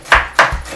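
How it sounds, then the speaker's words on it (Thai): A knife chops pickled mustard greens on a cutting board, giving two or three sharp, close chops in quick succession with no talk. "พี่ซีหั่นผักกาดดองอ่ะ"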